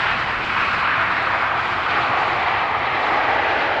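A KLM airliner arrives fast at Amsterdam Schiphol, its engines a loud, dense, even rush of jet noise lasting a few seconds, with no voices.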